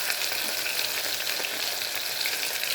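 Sliced onion frying in a pan for a rice and lentil dish, giving a steady, close, bright sizzle with faint crackles and no voices.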